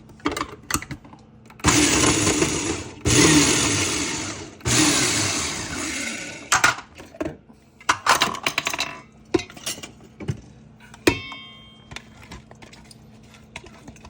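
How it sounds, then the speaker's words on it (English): A blender pulses cauliflower into rice-sized bits in several loud whirring bursts separated by pauses, then clinks and knocks as the jar and blade are handled. "so that's ricing the cauliflower"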